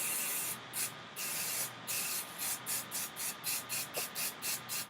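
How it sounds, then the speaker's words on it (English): Hairspray is misted onto curled hair, first in a couple of longer hissing bursts, then in a quick run of short rhythmic spritzes, close and loud with no talking. "take an extra hold or any kind of hairspray that you have and just hairspray your curls"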